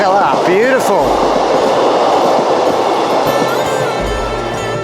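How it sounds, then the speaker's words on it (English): A passenger train on the Exmouth to Topsham line in Devon rushes past close by, a loud steady roar of wheels and clatter that swells then eases, with a rising whine at the start and voices in the background. "Train, look at that, beautiful."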